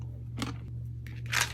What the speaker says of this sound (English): I'm gonna edit out the crunching because I gotta eat this pretzel.